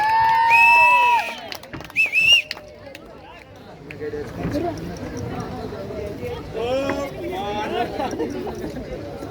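Crowd noise at an Indian wedding sangeet ceremony, with chatter, cheering and a couple of sharp whistles near the start, then a steady, fairly close hubbub of voices.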